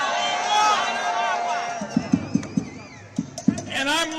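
A rally crowd outside the U.S. Treasury murmurs and chatters in a steady hubbub, with a few sharp thumps and claps near the end and voices rising over the din.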